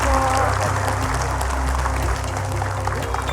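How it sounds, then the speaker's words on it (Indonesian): A studio audience of women on a television talk show applauds steadily, with dense, continuous hand-clapping and light crowd noise filling the room throughout. "Kak Kiki silakan tepuk tangan ibu-ibu boleh"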